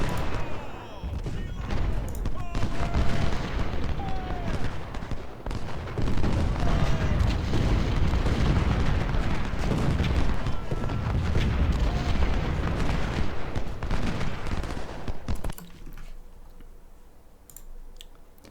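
Cannon fire from 24-pounder guns in the Civil War strategy game Ultimate General: Civil War, a continuous barrage of booming blasts and crackling impacts that rumbles on, then cuts off abruptly into near quiet at the end.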